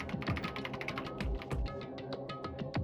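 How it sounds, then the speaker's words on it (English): Rapid keyboard typing in the Danganronpa video game, a brisk run of clicky keystrokes with a few heavier thumps, close and steady with no voices. "Kyoko's fingers glided across the keyboard."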